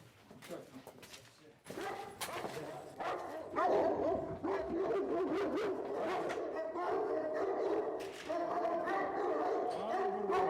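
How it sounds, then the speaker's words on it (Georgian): Several dogs bark and yip indoors at a house entrance as guests are invited in, the barking mixed with people talking nearby throughout. "ამ ძაღლების ნუ შეგეშინდებათ."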